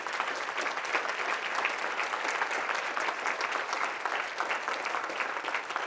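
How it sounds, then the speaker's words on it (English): A room of nurses at a fall provincial coordinators meeting applauds, producing an even, continuous round of clapping of moderate loudness for about six seconds, with no talking over it. "And they get a round of applause."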